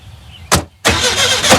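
A car engine cranks once in a short burst, stops briefly, then catches and settles into a loud, steady run close by, with no voices.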